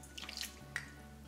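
Water poured into a cup of strong brewed coffee while making individual tiramisu cups, heard as a short run of light splashing and dripping, then a brief louder drip, faint and close, with nobody speaking.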